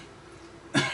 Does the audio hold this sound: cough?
yes